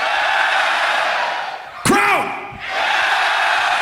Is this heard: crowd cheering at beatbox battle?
yes